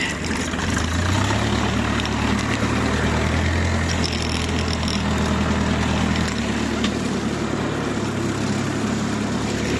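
Homemade tractor engine running on a cold morning around freezing: a loud, steady, low diesel-like rumble close by, continuous throughout without pause.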